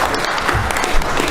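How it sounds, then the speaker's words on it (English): A round of applause during a joint committee on appropriations hearing, dense steady clapping from a room of people filling a short stretch at moderate level. "if you don't mind giving a round of applause for Mr. Justin Speck."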